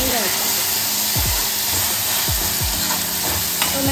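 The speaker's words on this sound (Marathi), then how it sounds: "इथे मी दोन मोठे टोमॅटो घेतलेले आहेत त्याचा घालून घेऊया आपण टोमॅटो" Tomatoes stirred into vegetables sizzling in a pan for pav bhaji, with a loud, steady frying hiss and repeated scraping strokes of the spoon, while someone talks over it.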